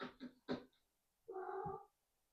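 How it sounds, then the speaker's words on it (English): A cat lets out a drawn-out, wavering meow, preceded by a few short, strained chirping sounds from the same cat, heard close and fairly quiet indoors in a room with a bookshelf. "What a weird cat."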